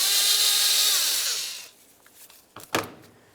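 An 8mm ratchet or power driver whirs loudly while loosening an intake clamp on a 1998–2002 Lincoln Navigator, a high spinning buzz that winds down, followed by a few short metallic clicks and a scrape.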